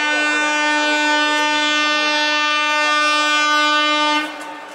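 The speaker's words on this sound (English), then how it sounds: "there's a train coming now" A double decker train pulls into a station in India, its horn blaring loud and steady for about four seconds before cutting off, leaving a faint rumble of the train.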